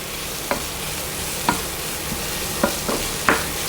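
Onions cooking in a pan for Swiss mac and cheese, a steady soft sizzle with a handful of sharp utensil scrapes and taps at irregular intervals, fairly close and without talk.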